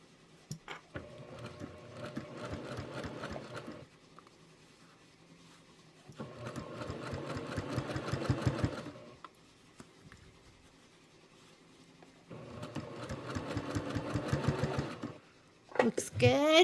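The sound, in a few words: sewing machine stitching a quilt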